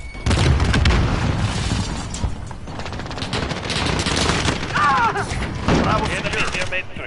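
A loud grenade blast booms amid rattling gunfire in an online Call of Duty: Modern Warfare match, with bursts of shots and heavy thuds crowding close together and game voice callouts mixed into the din.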